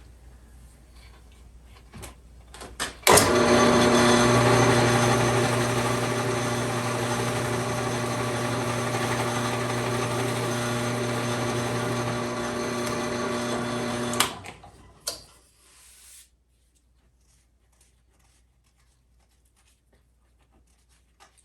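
Power drill boring holes with a Forstner bit into a wooden pinball playfield, a steady loud whine lasting about eleven seconds before stopping, with no talk.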